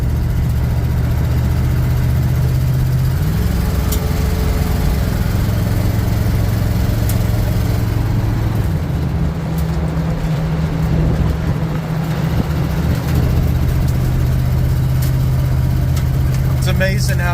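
A 1975 K5 Blazer's engine drones steadily and loudly from inside the cab while driving down the road, its pitch shifting a few times as it changes speed.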